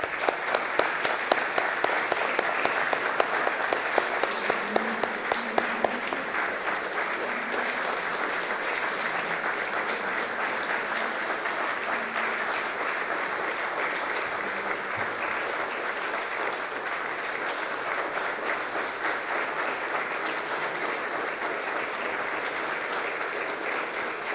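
A large audience at the 2022 Religious Liberty Summit claps steadily to welcome U.S. Supreme Court Justice Samuel Alito to the stage, a sustained wash of applause lasting over twenty seconds.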